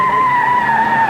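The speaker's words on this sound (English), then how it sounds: "The suspect squeals around corners" A car's tires squeal loud and close in one sustained, unbroken screech as it swings hard around a corner in a police chase.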